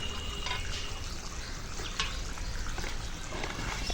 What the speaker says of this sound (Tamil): தண்ணி ஊற்றுங்க